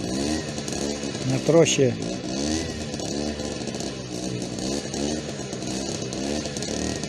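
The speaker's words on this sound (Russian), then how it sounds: "Сейчас двигатель, наверное, не согрелся еще." A just-started cold engine on a village plot runs with a rough, buzzing, motorcycle-like clatter before ploughing, rising briefly in a short rev, while people talk nearby.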